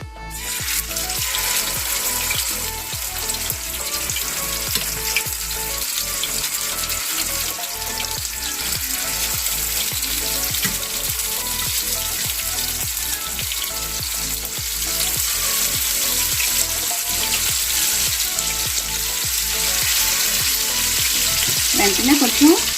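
Fish frying in hot oil on medium heat, a dense, continuous crackling sizzle that holds steady and loud for over twenty seconds, close up, with a few louder bursts of spatter near the end and no voices.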